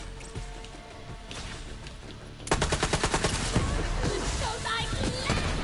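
Sandhawk gun in Borderlands 3 firing a rapid burst of evenly spaced, loud shots that starts abruptly partway through, over a busy game backdrop with faint talk.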